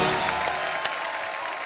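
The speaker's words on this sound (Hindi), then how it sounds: "आपकी जोरदार तालियों के बीच" A studio audience on the Indian TV comedy program The Kapil Sharma Show applauds: steady, dense clapping from a crowd at close range, fading slightly toward the end.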